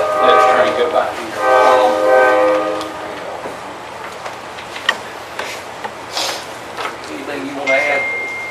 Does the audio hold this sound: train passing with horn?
yes